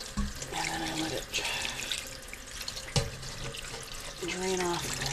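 Water running into a kitchen sink as liquid is drained off homemade butter, a steady splashing flow with a brief louder splash midway and some faint voice in the background.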